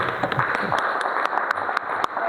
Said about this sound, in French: Applaudissons pour Maman Eugénie